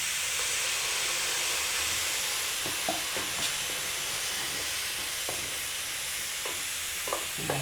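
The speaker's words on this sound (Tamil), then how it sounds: "தக்காளி பேஸ்ட்டை எடுத்து ஊற்றிக்கிறேன்" Tomato paste poured into a hot pan for broiler chicken gravy, a loud, steady hissing sizzle close by with scattered soft stirring clinks and spatters.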